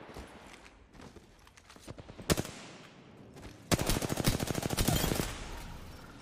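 Automatic gunfire in the shooter game Apex Legends, a few scattered shots followed by a loud, rapid sustained burst of close fire lasting over a second, with sparse background noise.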